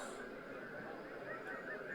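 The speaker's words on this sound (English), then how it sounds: "It's a flock of geese coming over the ground here" Geese honk in a loose, overlapping chorus from a flock passing over a cricket ground, steady and moderately distant over a constant murmur of crowd noise.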